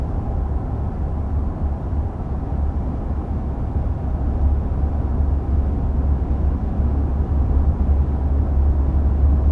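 Cabin of a 2022 Ford F-150 STX while driving, a steady low road and engine rumble with soft broadband wind and tire hiss, constant and fairly quiet with no talking.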